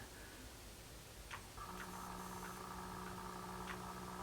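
A Kato C44-9W model locomotive (GE Dash 9-44CW, Union Pacific scheme) starts moving at low speed, its motor setting up a faint steady electric hum with a few light ticks over a hissy background, quiet and close, without talk.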